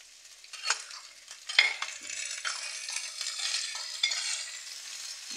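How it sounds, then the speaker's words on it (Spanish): Tomato sizzles in a hot pan with Mexican-style steak, bistec a la mexicana, as a utensil stirs and scrapes, giving a soft, steady frying hiss broken by a few close clinks and scrapes, no voices. "Le voy a echar el jitomate y ya va a soltar el juguito del jitomate"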